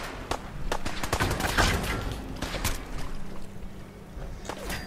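Rapid bursts of gunfire in the video game Fallout, a dense volley of cracking shots fired in quick succession with a steady background hum throughout.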